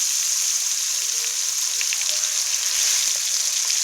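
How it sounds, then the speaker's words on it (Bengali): Bhola fish frying slowly in a pan over low heat, a steady bright sizzle with faint crackles and pops, close and continuous with no talk. "আস্তে আস্তে দিয়ে ভাজলে মাছটা ভিতর পর্যন্ত ভালো করে ভাজাটা হবে।"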